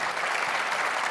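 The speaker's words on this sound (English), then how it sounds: "one more round of applause for our honorees tonight" Brief burst of dense applause for honorees at an awards dinner, steady and full with no break, filling the whole moment.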